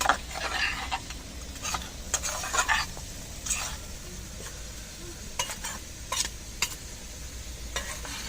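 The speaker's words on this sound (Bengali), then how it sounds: "এদিকে আলুগুলো কিন্তু আমার ভাজা হয়ে গেল" Potatoes frying in a pan, a low continuous sizzle broken by sharp scraping and clinking as they are stirred, heard alone without voices.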